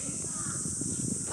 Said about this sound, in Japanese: フクロウじゃなくて鳥さんがいっぱいいます。